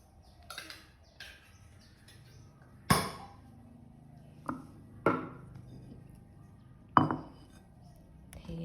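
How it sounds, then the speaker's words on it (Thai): Sharp metallic clicks and clinks sound as a can of fish is opened, several distinct pops and scrapes spaced a second or two apart in a quiet kitchen. "เปิดปลากระป๋องก่อน"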